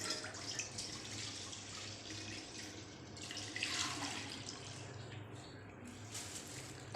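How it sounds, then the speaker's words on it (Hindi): Milk poured into a kadhai (wok) for homemade Bengali rasgulla, a continuous soft splashing pour lasting several seconds, faint and close, with no talk over it. "अब हम दूध जो है वो इसके ऐसे कढ़ाई में डालते हैं"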